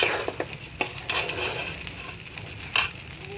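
Rice for khichuri fries in a pan while being stirred, a soft steady sizzle broken by scraping strokes and gritty clicks from the spoon at an irregular pace.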